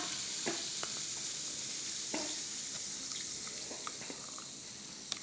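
A chemical reaction fizzes as it gives off carbon dioxide, a steady close hissing wash with scattered small pops and bubbling ticks throughout.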